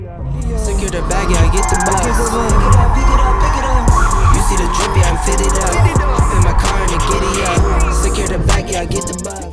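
A BMW M8 convertible drifts with its roof open, a loud, continuous engine roar mixed with tire squeal and skidding, heard close up throughout.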